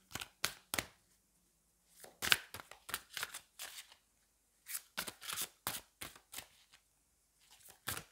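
Tarot cards being shuffled and drawn by hand, a series of crisp riffling and sliding bursts separated by short silences, close and clear with no talking.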